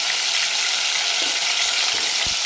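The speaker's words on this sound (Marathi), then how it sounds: "आणि छान ह्याला हलवून घेऊ. फुल गॅसवर आपल्याला छान हलवून घ्यायचं." Chicken rice with turmeric and salt sizzles loudly in a pan over a full flame, a dense steady frying hiss close by with faint stirring knocks near the end and no voices.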